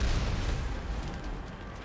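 Incoming missiles exploding in the video game Mass Effect, a short loud booming blast with a rumbling tail that fades slightly over two seconds.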